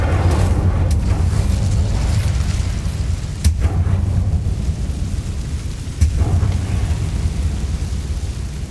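A fire spell cast in Hogwarts Legacy erupts in rumbling blasts with a steady roar, sharp cracks striking several times over a long, loud stretch.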